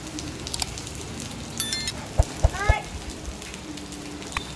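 Rain falls steadily at night in a continuous patter, with a few louder knocks and brief voices partway through.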